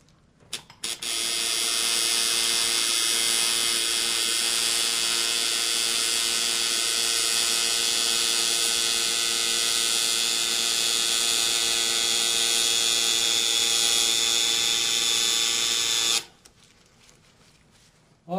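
A tattoo machine buzzes steadily and loudly at close range for about fifteen seconds, a constant electric whine that cuts off abruptly near the end, with no talking.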